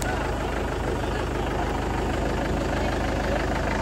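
A tractor engine idles nearby in a steady, low, knocking rumble that stays even and unbroken throughout, with no other sounds standing out.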